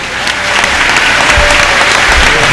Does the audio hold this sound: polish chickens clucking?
no